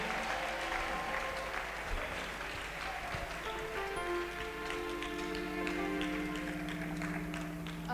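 A church congregation applauds with continuous, dense clapping from many hands that fills the space, with sustained tones and faint voices mixed underneath.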